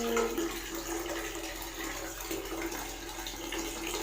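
Steady hiss of running water from a tap pouring continuously into a container to store water, fairly faint and unbroken throughout.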